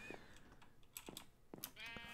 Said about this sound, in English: There's a pink sheep! Get out of my way!